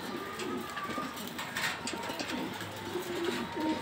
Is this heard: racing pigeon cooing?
yes